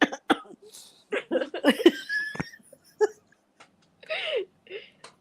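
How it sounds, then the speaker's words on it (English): Close, sharp coughs burst out several times in an uneven series, mixed with breathy, strained vocal sounds and short silences between them. "I got a cough all of a sudden"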